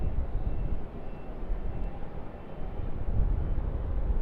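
A Qantas Boeing 737-800 departing off runway 34 left at Sydney Airport, a sustained low engine rumble heard from a distance, fairly even and slightly swelling toward the end, with no voices.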